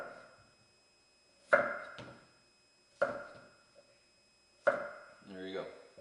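A knife chops down through a potato onto a cutting board in three sharp, evenly spaced strikes roughly a second and a half apart, each one loud and close with a brief ringing tail and a smaller tap after the first, then a short voiced sound at the end.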